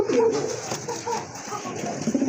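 Red Rajgolla pigeons, white-winged and crested fancy birds, coo softly and close by in a short sequence of low, throaty murmurs.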